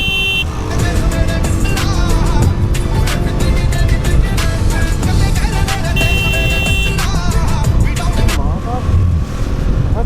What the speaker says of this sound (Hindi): अब मैं थोड़ा हाई स्पीड में गाड़ी को चलाऊँगा